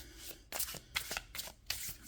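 Tarot cards being shuffled by hand in several quick riffling bursts with brief gaps between them, close and soft, with no talking.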